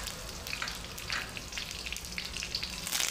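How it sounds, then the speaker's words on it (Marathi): Curry leaves crackle in hot oil with cumin seeds, a faint, steady sizzle peppered with sharp little pops and spits. "कढीपत्ता घातलेला आहे, असं ताडताडीत वाजलं पाहिजे"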